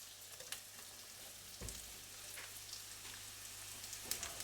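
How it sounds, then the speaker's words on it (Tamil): A hot oil tempering of cashews and curry leaves crackles and sizzles softly in a small pan for white pongal, a faint steady frying hiss with scattered pops and a brief clatter partway through. "தாளித்து கொட்டிடலாம்"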